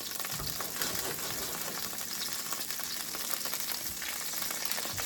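Garlic browning in a pan, a continuous close sizzle and crackle of hot oil that stays even and steady throughout, with no voices over it.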